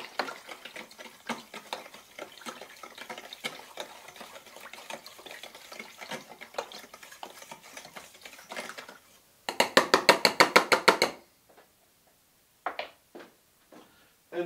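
Stirring potato salad with smoked mackerel, a quick run of soft scraping, clattering strokes, then a louder rhythmic burst of stirring followed by a few isolated knocks.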